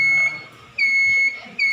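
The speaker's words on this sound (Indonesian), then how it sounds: "LED akan berwarna hijau dan buzzer akan berbunyi." An electronic buzzer sounds in two steady high-pitched bursts with a short gap between them, loud and close, with no talking.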